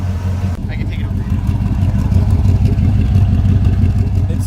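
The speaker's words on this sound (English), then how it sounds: "It's a loud car." A newly bought car's loud engine revs and rumbles close by, a heavy, steady drone with some clatter that grows slightly stronger after a short dip near the start.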